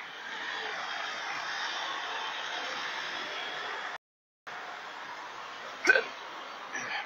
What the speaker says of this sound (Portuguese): Acho que o soluço veio por causa da pimenta malagueta.